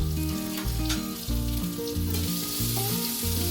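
Sliced onions frying in a pan for green peas masala, a continuous sizzle with stirring, heard alongside loud background music.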